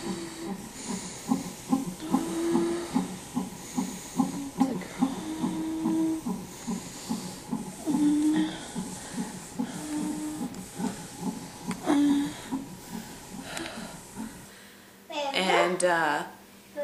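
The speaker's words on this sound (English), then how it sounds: "Just keep breathing." Heavy rhythmic breathing of a woman in labor working through a contraction, repeated loud inhales and exhales at a steady pace, close up, with occasional voices and a brief louder vocal burst near the end.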